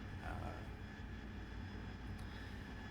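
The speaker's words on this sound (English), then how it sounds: "We just left Camp Bastion, and a Harrier seemed fitting." Harrier jet in the DCS flight simulator near Camp Bastion on the Afghanistan map, a steady, droning engine roar that holds level with a low rumble underneath and no talk.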